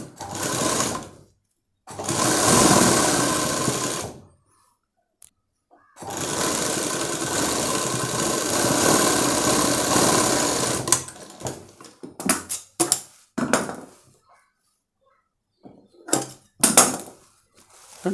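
A tailoring sewing machine stitches satin frock fabric in long continuous bursts of close, steady whirring, then short stop-start runs and brief taps near the end.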